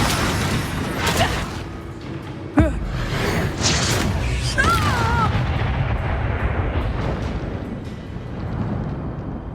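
Confringo blast spells in the video game Hogwarts Legacy, loud booming explosions over rumbling combat noise, with one sharp crack partway through and whooshing magical effects after it.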